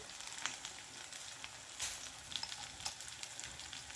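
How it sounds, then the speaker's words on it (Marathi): Masala spices roasting and sizzling in a hot pan for an eggplant masala dish, a steady close crackle with small pops scattered throughout and no voices. "तुम्ही बघू शकता आपला मसाला छान भाजत आलेला आहे."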